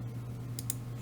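Two quick computer mouse clicks, close together and crisp, sound over a steady low electrical hum while someone works in ABAQUS simulation software on a 3D beam model of a student car suspension.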